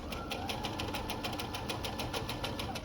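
A sewing machine stitches a sleeve into a button-down blouse, running at a steady fast rhythmic whir with regular mechanical ticking pulses, close and continuous.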